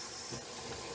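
Faint, steady hiss of running water from a tap or shower as a head is re-wet before shaving, continuous and even with no speech.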